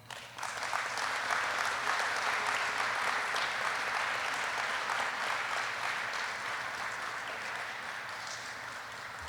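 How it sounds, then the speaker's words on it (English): Sustained audience applause for graduates receiving their wings at a U.S. Army Aviation training graduation ceremony, a large crowd clapping steadily and loudly, easing only slightly toward the end. "please help me in congratulating all graduates receiving their wings and insignia today with another round of applause"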